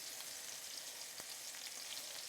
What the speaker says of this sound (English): So we're just browning these.